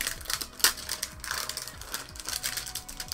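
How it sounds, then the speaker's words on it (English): Crinkly plastic packaging being torn and pulled off the wrist rest bundled with an Asus ROG Zephyrus Duo 15 laptop, a steady run of close, rustling, ratchety crackles with one sharp louder snap. "Let's go ahead and unwrap this."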